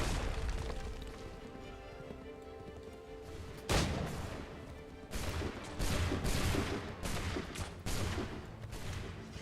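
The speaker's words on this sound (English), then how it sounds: "Press Y to shoot the highlighted target with your pistol" Pistol shots in Assassin's Creed III Remastered ring out over a busy game soundscape, a sharp crack near the middle followed by several more bursts in an uneven cluster toward the end.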